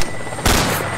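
Gunfire in a shooter game, a sudden loud close burst of shots cutting in partway through after a moment of quieter background noise, with no voices.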